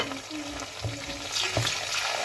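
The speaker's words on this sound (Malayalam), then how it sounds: "ഈ സമയത്ത് നമുക്ക് പച്ചമുളകും കരിവേപ്പിലയും ഇട്ട് കൊടുക്കാം ഇട്ട് കൊടുത്ത് അതുകൂടെ ഒന്ന് ഇളക്കിയെടുക്കാം" Green chillies and curry leaves stirred into frying Kerala-style lemon and dates pickle, with a close, steady oily sizzle and a few spoon knocks against the pan.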